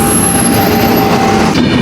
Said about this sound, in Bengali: গরুমারা জঙ্গলের ভিতর থেকে ট্রেনটা যাচ্ছে,